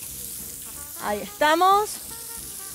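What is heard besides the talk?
choricitos frying in oil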